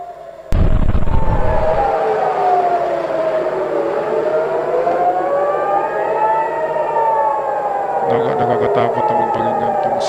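Air raid sirens wail loudly and continuously, their rising and falling tones overlapping across the whole stretch after a brief low rumble at the start, with more rumbling near the end.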